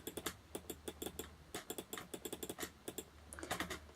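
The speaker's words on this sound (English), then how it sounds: "Not used to playing on a keyboard." Fast, close keyboard typing on a computer keyboard during Minecraft: Raspberry Pi Edition gameplay, a steady stream of crisp key clicks and taps with no voices.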